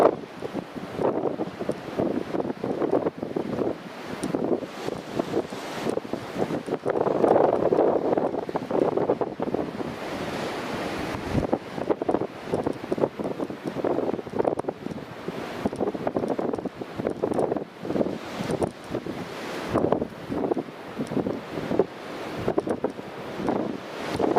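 Gusty wind at Newcastle International Airport buffets the microphone with a continuous roar that surges and eases in irregular gusts, loud and close throughout, no voices.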